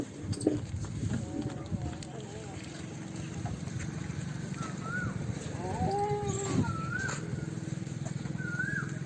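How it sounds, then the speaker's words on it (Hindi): Sirohi goats on a busy goat farm in Bharatpur, Rajasthan, give short, bleating calls scattered through steady background noise, while people talk. "सिरोही बकरा।"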